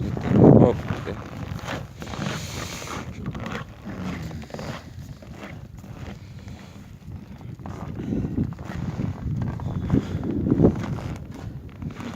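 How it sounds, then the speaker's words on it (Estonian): Wind blows outdoors at a winter swimming spot, a gusty low rumble buffeting the microphone, with footsteps and brief voices over it. "Tuul on."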